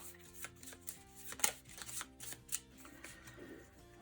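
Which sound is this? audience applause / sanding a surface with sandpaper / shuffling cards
shuffling cards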